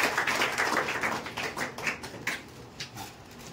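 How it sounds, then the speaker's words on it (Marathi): Audience applauding at a felicitation ceremony honouring 10th and 12th grade students, a dense round of clapping that carries on steadily and slowly thins out, fairly loud and with no talk over it. "टाळ्या वाजवा."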